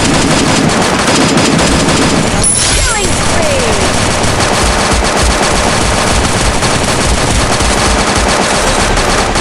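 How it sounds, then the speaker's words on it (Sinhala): Loud, dense automatic gunfire from the Free Fire video game, rapid bursts filling the whole stretch with a constant crackling barrage at close range. "අන්න වෙඩි තියෙනවා"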